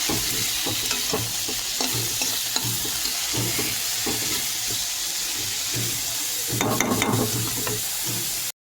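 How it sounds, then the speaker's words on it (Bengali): Bitter gourd and potato fry in a hot kadai with a little salt, a close sizzling crackle broken by repeated scraping stirs and clinks, with a louder burst of stirring near the end. "একদিকে আলুটা ভাজতে দিয়েছি।"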